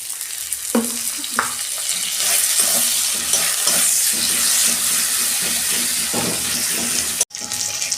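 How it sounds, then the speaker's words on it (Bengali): Sliced onions frying in oil with a pinch of salt, a close, loud continuous sizzle broken by repeated scraping stirs of the spatula, briefly cutting out near the end. "এই যে পেঁয়াজ ভাজা হয়ে গেছে"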